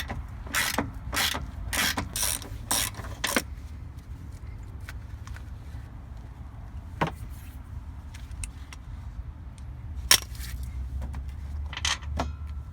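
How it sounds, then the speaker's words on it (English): An 18mm socket on a ratchet loosens the top bolt of a car's rear shock absorber. Several quick, sharp bursts of ratcheting come early, then sparser clicks and clunks follow over a low background rumble, with no talk. "take an 18mm socket, and you want to loosen this top bolt right here"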